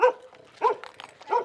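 A dog barks three times in quick, evenly spaced yaps, close and clear, with soft whimpering sounds between the barks.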